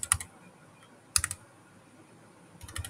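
Someone types at a computer keyboard while working in AutoCAD, giving brief bursts of close clicky keystrokes at the start, in the middle and near the end, with quiet pauses between.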